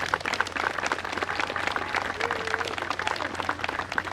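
A Veterans Day ceremony crowd gives dense, sustained applause for deployed service members, a full continuous wash of clapping from many people outdoors, with a faint low hum underneath and some murmuring voices.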